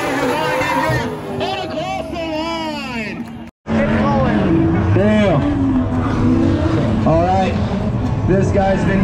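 Drift cars slide door to door at a drift night at the Freedom Factory, engines screaming with rising and falling revs and tire noise, loud and sustained with a brief cut, while a commentator talks over it.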